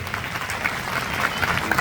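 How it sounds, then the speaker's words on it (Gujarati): A crowd at a community get-together in Surat claps for two brothers, producing a short, steady patter of applause throughout. "બંને ભાઈઓ માટે એકવાર જોરદાર તાળી થઈ જાય"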